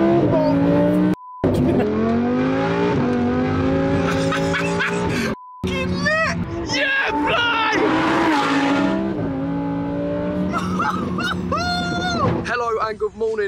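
A custom Lamborghini revs hard in a McDonald's car park, its engine climbing and falling in repeated bursts with sharp tire squeal, loud and close, while people talk and shout over it.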